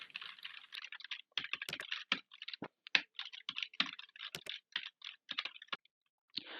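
Rapid, irregular keystrokes on a computer keyboard, close and fairly loud, with short pauses between bursts of clicks and no voice.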